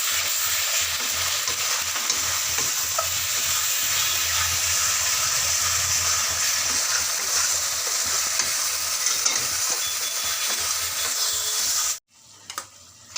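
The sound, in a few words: garlic and onion being stirred and fried in a pan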